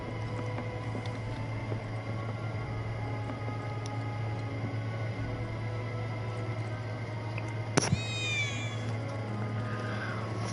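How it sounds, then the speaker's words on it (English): One of Betty's cats in Final Fantasy 7 gives a single short meow about two-thirds of the way through, heard over a steady hum of game ambience. "I think one of Betty's cats might be nearby."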